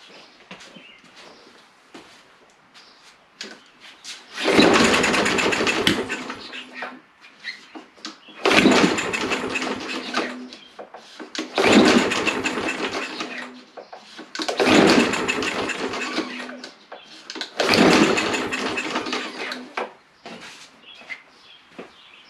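A small engine that had water in it is pull-started five times. Each pull gives a short rasping crank of about one to two seconds, with quiet gaps between the attempts. It never catches and runs.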